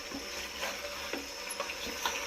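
Mutton fries in oil in a pan for mutton sambar, a steady low sizzle broken by regular scraping strokes as the meat is stirred.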